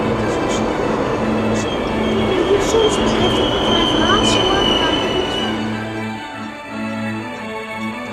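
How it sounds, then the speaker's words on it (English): A train travels between Amsterdam and Zaandam in the Netherlands, a loud rolling rumble inside the carriage with squealing wheels and a sustained tonal whine that eases off toward the end. "We'll be taking the train."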